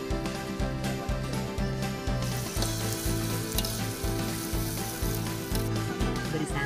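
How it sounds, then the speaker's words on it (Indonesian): Spices sizzle with lemongrass, bay leaf and solempat stems in a pan, a steady loud frying hiss over a regular rhythmic clatter of stirring strokes roughly twice a second, with no talk. "Aduk hingga tercampur rata."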